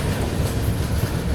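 The Amritsar Jaynagar Humsafar train runs slowly on the rails near Ambala, with a continuous low rumble of wheels and carriages.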